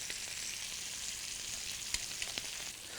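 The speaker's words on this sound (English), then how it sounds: "Oh, we're getting a good sear on that side also." A butcher's steak sears in a hot pan with a steady, close hiss of frying, broken by a few faint pops and crackles.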